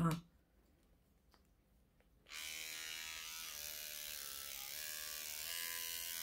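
An electric toothbrush that had been faulty starts running after a couple of faint clicks, then holds a steady high buzzing whine close by until the end.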